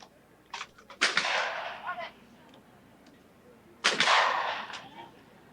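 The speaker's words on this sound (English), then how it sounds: "you have to go right down to the ground and shoot that rabbit target" Shotgun blasts ring out at a clay target sporting competition, with two loud, echoing shots a few seconds apart and fainter sounds in between, heard from a short distance outdoors.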